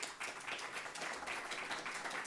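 A conference audience applauds at the end of a talk, a brief dense patter of many hands clapping at steady loudness with no speech over it.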